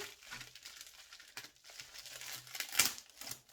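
Plastic packaging on a diamond painting kit is torn open, producing quiet, irregular crinkling and ripping bursts close by, with one sharper crackle near the end and no speech.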